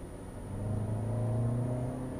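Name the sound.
Lexus NX 200T accelerating with engine sound generator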